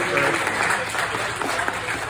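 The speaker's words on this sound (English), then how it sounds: "Everybody give these kids a big round of applause." Steady audience applause for a group of kids at a Superman Celebration, dense clapping throughout at a fairly loud, even level, with some voices mixed in.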